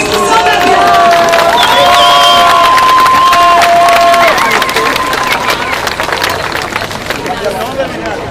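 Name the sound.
crowd applause and cheering at rally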